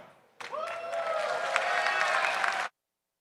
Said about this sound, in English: I will need an even bigger round of applause